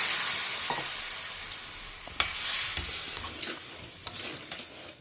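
Tamarind water hits a pan of okra for vendakkai vathal kuzhambu, setting off a steady close sizzle and hiss with a few sharp spatters and stirring clinks, no voices.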